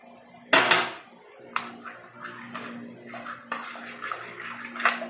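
Mashed banana and egg are mixed in a bowl: a sharp clatter opens, followed by soft wet squelching and irregular scraping strokes against the bowl, close and moderately quiet, with no talking.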